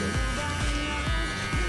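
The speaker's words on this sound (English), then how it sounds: "come in with a clipper and it'll just chop it off" Electric hair clipper buzzing steadily through a crop haircut, close and continuous, with repeated brief sweeps as the blade chops through held hair during debulking.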